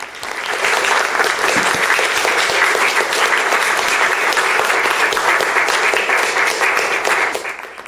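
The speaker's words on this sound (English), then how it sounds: "So a round of applause for the panel, and thanks very much." Loud, dense applause from a conference audience thanking a panel on progressive federalism, a steady roar of many hands clapping close by that swells quickly and fades at the end.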